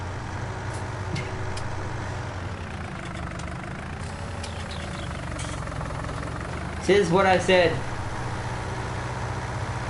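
Tractor engine idling steadily in the game Farming Simulator 19, a low constant drone heard under someone talking, with a brief louder rev near the end.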